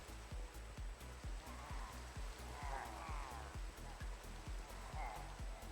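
Minecraft rain falls in a steady, even hiss, with a regular beat of low, soft thumps running underneath.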